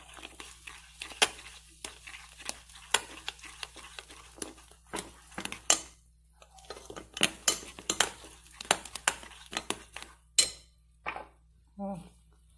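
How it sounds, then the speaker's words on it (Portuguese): Flour for a strawberry and coconut cake is stirred into batter with a utensil, giving irregular clinks and scrapes against the bowl at close range, with quiet gaps in between. "Então a gente vai colocando aos poucos e mexendo, tá?"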